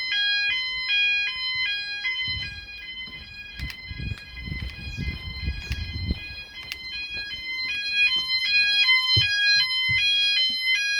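An E.M.S. FirePoint 5004 fire alarm system sounds with all its devices going at once: a repeating two-tone electronic warble loops throughout, with some bumps and handling noise underneath.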